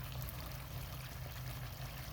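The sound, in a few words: water pouring from DIY pond waterfall fed by pump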